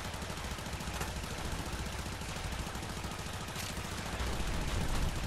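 Rapid sustained automatic fire from a Soma assault rifle in the sci-fi shooter Warframe, dense and continuous for the whole stretch and swelling louder near the end.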